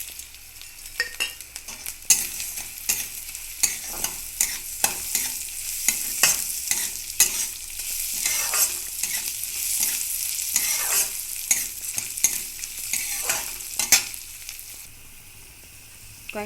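Moong dal fries in hot mustard oil with five-spice, dried red chillies and bay leaf, giving a continuous crackling sizzle broken by frequent sharp scrapes and clinks of stirring, with no voices.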